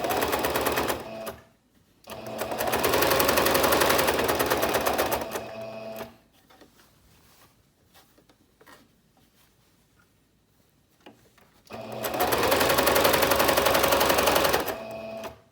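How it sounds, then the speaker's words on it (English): Two bursts of rapid, rhythmic sewing machine stitching along a marked line on an off-shoulder top, each lasting about four seconds, separated by a quiet stretch with faint handling noises. "I'm going to sew on the line."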